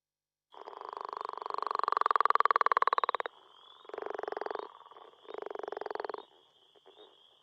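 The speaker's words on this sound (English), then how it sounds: "So it's a snore with grunts. And we have leopard frog" A leopard frog calls, a long rattling snore followed by two shorter grunting croaks, close and clear against silence.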